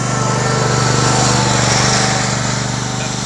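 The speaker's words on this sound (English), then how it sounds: "there goes Lawnmower Guy" A ride-on lawn mower drives past with a steady, loud engine drone and a buzzy hum that holds close and even throughout, easing slightly at the end.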